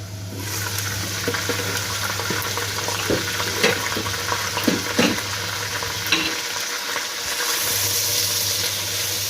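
Minced chicken keema fries in a pan with a steady hiss and sizzle, with occasional stirring scrapes and a low hum in the background.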